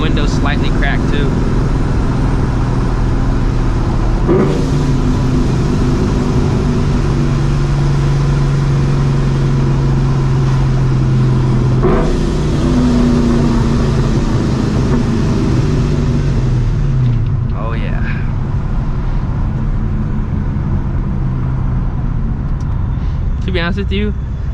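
A Ford Mustang GT (Edge generation) with long-tube headers drones loudly while driving, its engine and exhaust rumbling steadily with rising and falling revs, heard from inside the cabin with windows slightly cracked, under occasional talk.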